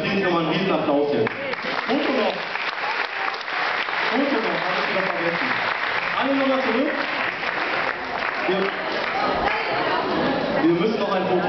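Sustained audience applause at the Aachen award ceremony for the 'Integration durch Sport' prize fills the hall steadily, with voices talking over the clapping throughout.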